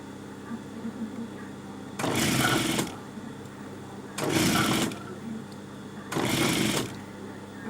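A sewing machine stitches stretched elastic in three separate bursts of rapid, even whirring, each lasting about a second, with quiet pauses between them. The sound is close, and no one speaks.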